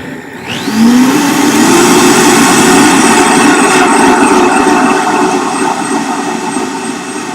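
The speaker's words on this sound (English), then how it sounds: "I'm just going to let that rip on the blender" A blender runs loud and steady, spinning up at the start and then whirring continuously while it purees a slightly grainy street corn sauce in a kitchen during a live cooking lesson.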